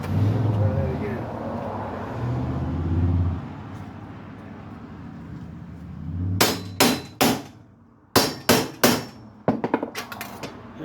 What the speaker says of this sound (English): tap lightly to begin with to get it to cut through the aluminum, and then hammer it home